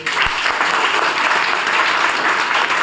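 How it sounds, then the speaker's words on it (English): Students and staff at a school youth parliament applaud themselves in a loud, sustained burst of clapping from a large crowd, an even roar of hands that holds for nearly three seconds. "So we'll clap our hands for ourselves."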